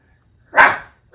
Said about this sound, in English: I think you went for, like, the big boy barking sound